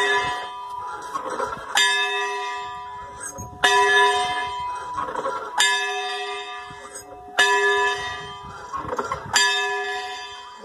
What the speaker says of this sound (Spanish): Y aquí tenemos esta campana de San Juan de Nepomucén